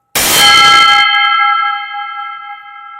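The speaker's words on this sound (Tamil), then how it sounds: "பிரம்மதாளம்ன்றது இது தாளங்கள் இந்த மாதிரி இருக்கும். இது வெங்கலத்தால் உருவாக்கப்பட்டது." A single loud strike of bronze brahma thalam temple cymbals, a bright metallic clang that rings on with a sustained, slowly fading bell-like tone.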